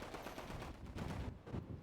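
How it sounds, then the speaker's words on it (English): A burst of video game gunfire in a GTA roleplay session, a rapid cluster of loud shots that comes in uneven bursts over a couple of seconds, with no speech. "Shots fired?"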